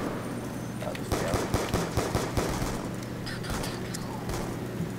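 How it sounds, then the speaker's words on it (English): Black Ops 2 Zombies gunfire on PC: a rapid run of fairly quiet automatic shots in quick succession, fading into scattered bursts and game noise, with a voice talking faintly in places. "Let's shoot them zombies"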